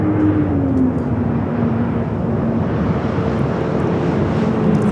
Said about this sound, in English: Flexport Flight 364, 747-400 freighter, looking like it's going to be taking off 25 left